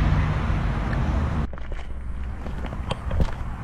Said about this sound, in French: Il passe énormément de voitures